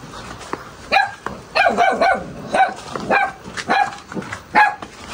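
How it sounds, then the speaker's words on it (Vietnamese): Rapid, yappy barking from a small dog at a rural Vietnamese home, about a dozen close, loud barks in uneven bursts with no talking over them. "Chó này bé bé tí mà sủa ghê đấy chú nhờ."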